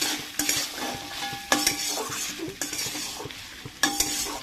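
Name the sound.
stirring ghugni peas in a pan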